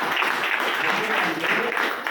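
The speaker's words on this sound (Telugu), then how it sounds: "ఓకే వీళ్ళకు ఒక్కసారి మరొకసారి క్లాప్స్" An audience claps together at an indoor gathering, a dense, steady wash of applause held at even loudness for the whole stretch.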